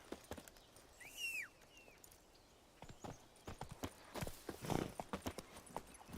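Roach, the horse in The Witcher 3, gives a high neigh, then hooves clop in an uneven rhythm, fairly faint against a quiet game backdrop.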